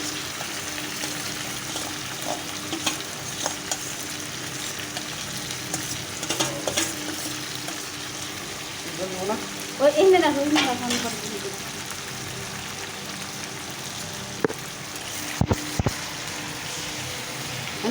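Chicken cooks in a kadai with a steady, even sizzle. A brief murmur of voices and a few knocks rise midway through, then the sizzle carries on alone.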